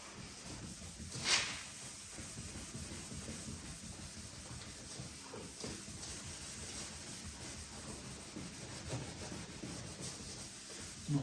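Wet sandpaper rubbing steadily across a plastic headlight lens during restoration, a continuous close scratchy swishing with one brief louder scrape near the start.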